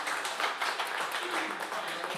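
Audience applause at a live radio show performance, a steady wash of many hands clapping from a modest room crowd, continuous and moderately loud throughout.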